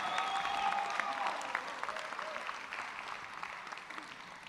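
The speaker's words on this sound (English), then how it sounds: "Let's give everyone a round of applause again on their graduation." A crowd at a 2023 summer school graduation ceremony claps warmly and steadily, somewhat distant, with a few faint voices mixed in as the applause slowly tapers.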